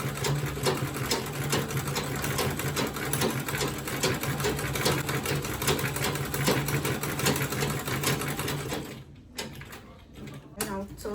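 A sewing machine runs steadily, stitching around a quilted tote bag with boxed corners, its motor whirring close and continuous for about nine seconds before slowing into a few short bursts.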